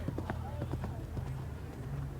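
At an international three-day eventing show jumping round, a horse's hooves thud in quick rhythmic beats on the arena footing under a commentator's continuous talk.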